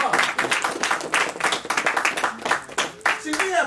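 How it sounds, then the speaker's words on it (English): Congregation applauding inside a mosque during a sermon, with steady dense clapping throughout, fairly close and loud, with voices mixed in. "give yourself a round of applause."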